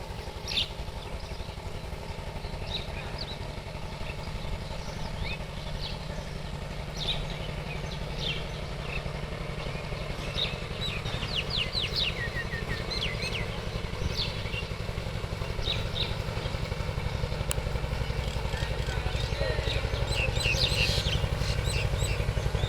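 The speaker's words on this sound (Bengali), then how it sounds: "এই যে ট্রলারটা ঘুরছে, এখন ট্রলারটা ঘুরে চলে যাবে সামনের দিকে" A trawler's steady, low engine drone carries through the whole stretch on the Karnaphuli River, with a faint whine overhead and occasional bird chirps in the background.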